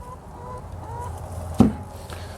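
Backyard chickens cluck softly in the background with a few faint calls, broken by one sharp close handling knock.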